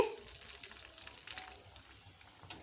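Sweet horse gram dumplings (ulava poornam burelu) fry in hot oil, giving a soft, steady sizzle that starts a little louder and fades over a few seconds.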